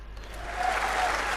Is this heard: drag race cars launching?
no